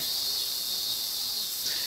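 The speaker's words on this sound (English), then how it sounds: "Spring had passed, and the cicadas' cries soon began." Cicadas drone in a steady, high summer buzz from the visual novel Narcissu: Zero, a dense continuous hiss that holds evenly throughout with nothing else over it.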